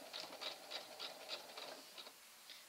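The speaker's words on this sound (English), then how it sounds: "we're going to start sewing just a little bit before that and catch it in right as we start sewing" A sewing machine with a walking foot stitches velvet ribbon onto a burlap table runner, producing a quiet, close, rhythmic patter of needle strokes about four per second; no speech.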